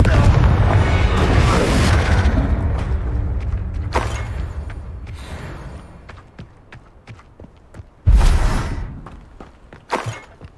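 Confringo fire spell explosions in the video game Hogwarts Legacy, heard as a sustained rumbling blast that fades out, then sharp crashing bursts later on amid scattered clicks and impacts.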